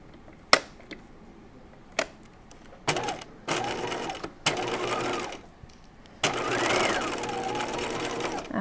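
A sewing machine stitches a halter top in several runs of rapid needle clatter, separated by short pauses and single sharp clicks, loudest in the last stretch; a voice is faintly present.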